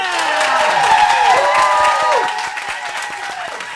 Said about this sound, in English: I know you've been holding back all the applause. I guess now's the time you can let it out.